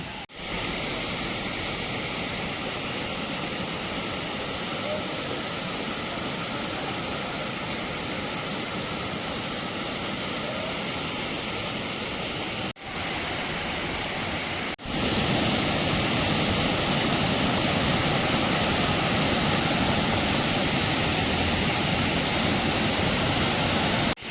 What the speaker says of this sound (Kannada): ನೀರು ಬೀಳೋ ಜಾಗ ತೋರಿಸ್ತೀನಿ ನೋಡಿ ಎಷ್ಟು ಫೋರ್ಸಾಗಿ ಹೆಂಗೆ ಬರ್ತಾಯಿದೆ